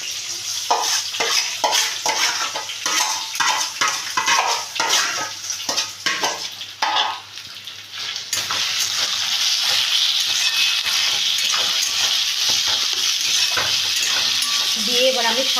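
Grated raw potato is added and stirred for potato and suji pakora: a run of rhythmic, close stirring and scraping strokes, then a steady continuous sizzling hiss filling the second half.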